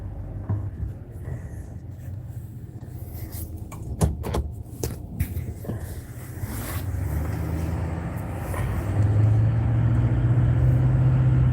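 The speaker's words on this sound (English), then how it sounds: "we're just driving to the range" A car on the road heading to a shooting range. A few close clunks and knocks come first, then a steady engine and road rumble builds and grows louder toward the end, with no talking.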